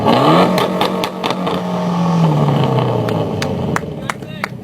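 Mitsubishi Evo X with a full ETS aftermarket exhaust revving up and settling down, loud and close, with exhaust pops and crackles as it drops back, while people talk nearby.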